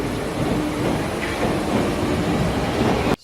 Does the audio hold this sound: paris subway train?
yes